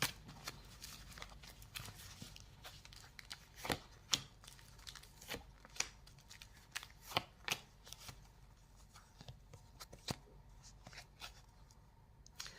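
Oracle cards being shuffled for a reading: a steady stream of soft papery riffles and flicks, close and quiet, with irregular sharper snaps, and no talking.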